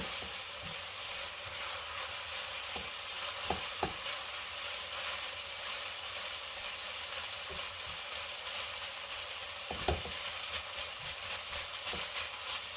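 Vegetables and chicken stirred in a frying pan, a steady sizzle running throughout with occasional scrapes and clacks of the utensil against the pan, no talking.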